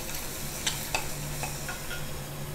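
Crushed garlic stirred into sautéed ginger in a pan for gooseberry pickle: a steady, fairly quiet sizzle with a few brief, light spoon clicks, no voices.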